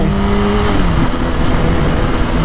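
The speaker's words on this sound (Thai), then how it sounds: "เบรกนิดนึงแล้วก็เปิดคันเร่งไป" Car engine revving up as the throttle opens after light braking on a downhill bend, a loud, steady engine roar with a falling then rising tone, close and continuous with no talk.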